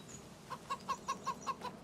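Chickens on a farm in the Farming Simulator 25 video game cluck softly, about seven short, evenly spaced clucks in a quick rhythm, fairly quiet against a low background.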